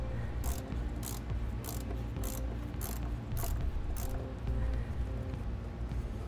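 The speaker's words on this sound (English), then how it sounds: "put your nut back on and get that tightened down" A ratchet wrench tightens a nut down onto a stud while a trailer brake controller is fitted in a 2016 Mercedes-Benz, giving a steady run of quick, even clicks close by with no talking.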